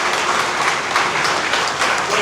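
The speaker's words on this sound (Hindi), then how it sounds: "तो इनके लिए एक बार जोरदार ताली" Dense, loud applause from an audience at a company get-together, continuous rapid clapping filling the whole two seconds with no talk on top.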